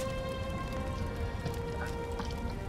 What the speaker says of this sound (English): Why is it raining in here?